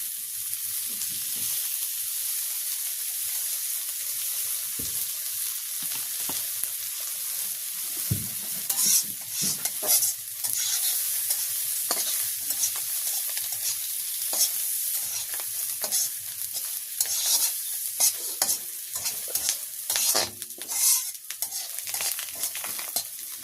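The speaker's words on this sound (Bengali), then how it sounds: "ডিম ভাজি হয়ে গেছে, এখন নামাই নেব।" Eggs with coriander leaves and onion frying in oil in a pan during village cooking, a steady bright sizzle that runs throughout, with frequent scraping stir strokes and clinks of a spatula on the pan, close and fairly loud, with no talk.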